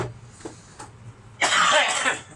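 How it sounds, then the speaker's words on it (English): A single harsh cough, close and loud, after a few faint clicks, while noodles with homemade pork broth are being prepared in a kitchen. "Sorry about the cough."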